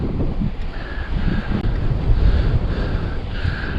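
Strong wind blows over exposed upland moorland in Upper Teesdale near the Pennine Way, buffeting the microphone with loud, continuous low rumbling gusts.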